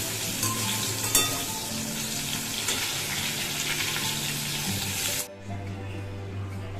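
A last small piece frying in a pan makes a loud, continuous sizzle with stirring scrapes and a sharp clatter near the start, before the sizzle cuts out into a quieter hum.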